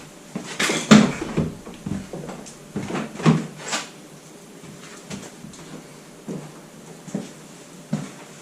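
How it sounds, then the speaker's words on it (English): The door of a salvaged Renault Captur is worked open with a series of close, hollow clunks and latch clicks, busiest at first and then trailing off into sparser knocks. "The door open."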